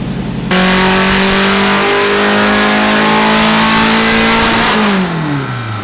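A car engine on a dynamometer during a pull, roaring loud and close as it revs steadily climbing in pitch for several seconds before dropping off, with no talking.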